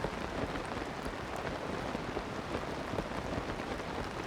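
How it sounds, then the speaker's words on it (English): Steady rain patters on a paraglider in the video game Zelda: Tears of the Kingdom, a dense continuous hiss of drops without pauses or voices. "I love that sound of rain on my paraglider"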